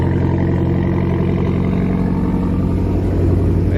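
A fully built 1,000 hp Mitsubishi Evo X engine rumbles loud and close at its first start-up in the early morning, holding a steady heavy drone that swells slightly near the end.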